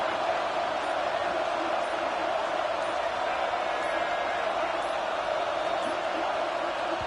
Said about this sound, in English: This crowd bringing serious noise on this huge 4th down play.